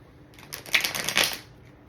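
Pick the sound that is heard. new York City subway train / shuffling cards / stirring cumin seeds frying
shuffling cards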